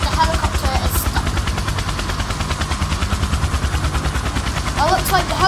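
A helicopter in the PTFS video game, its rapid rotor chop pulsing steadily and loudly throughout, with sharp bursts that sound like gunfire over it.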